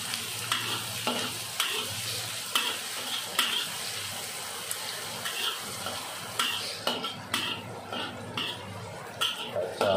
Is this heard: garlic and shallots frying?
yes